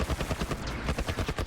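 Rapid machine gun fire from The Last of Us, a steady stream of loud, closely spaced bursts that runs without a break.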